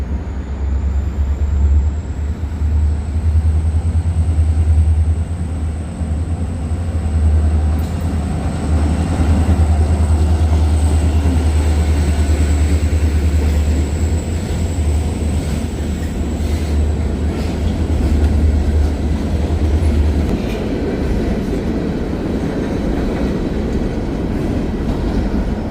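A train rumbles across a drawbridge trestle in Jacksonville at night, a loud continuous roll of wheels and rail clatter with a high squealing tone overhead, the heavy low rumble fading after about twenty seconds.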